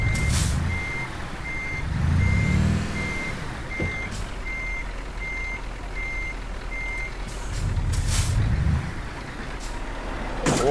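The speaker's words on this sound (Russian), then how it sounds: "тут фура разворачивается" Reversing beeps from a Scania R440 truck in Euro Truck Simulator 2 as it turns around, a steady evenly spaced series over low engine rumble that swells twice, with an air-brake hiss near the end.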